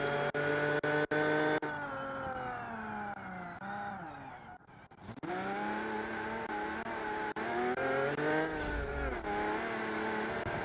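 Steady whine of an Aston Martin V12 engine in the BeamNG racing video game, revving up and down continuously with a brief dip midway, loud and without voices.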